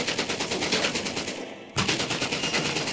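Rapid automatic weapon fire in the VR shooter Medal of Honor: Above and Beyond, steady and rhythmic throughout, with a short dip in the middle before the shooting resumes at full strength.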